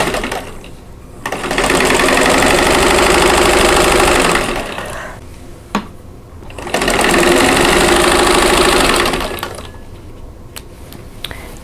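A sewing machine stitches quilt squares in two long, steady bursts of fast rhythmic whirring, each about three seconds, separated by a brief pause with small clicks, close and loud with no talking.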